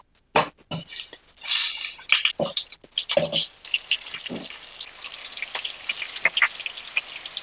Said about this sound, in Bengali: এবার আমি এই তেলের মধ্যে আলুগুলো একটু ভেজে নেব।